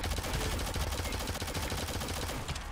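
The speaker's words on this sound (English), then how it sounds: "Shotgun at long range." Rapid gunfire from the Shadowgun Legends team PvP video game rattles on continuously and loud, a dense stream of shots with no pauses.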